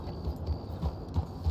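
A horse's hooves clop steadily at a walk in Red Dead Redemption 2, a close, even rhythm of soft thuds over low ambient game sound, with no talking.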